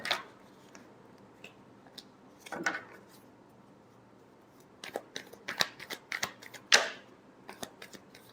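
Tarot cards shuffled during a love reading: scattered crisp riffling and slapping bursts with quiet gaps between, near and fairly soft, and no talk.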